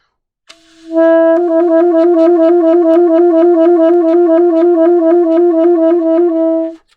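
An alto saxophone plays a sustained trill with the top key, rapid even alternation between two notes held for several seconds, clear and close, soft in dynamic, after a short attack.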